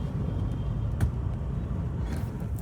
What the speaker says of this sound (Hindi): यहाँ इतना भयंकर ट्रैफिक लगा